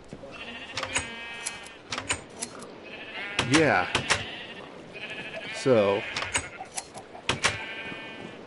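Bleats from Minecraft sheep in a video game, a handful of short wavering calls including a couple of longer, louder ones, with someone saying a word in between.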